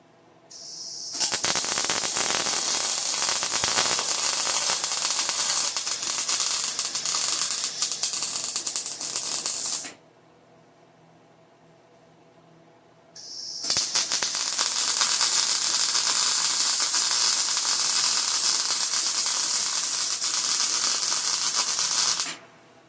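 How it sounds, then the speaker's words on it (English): Welding on 3/8 inch steel gives off a loud, steady, crackling hiss in two long runs with a short quiet pause between them. "Looks like it's penetrating the 3/8 steel pretty decent."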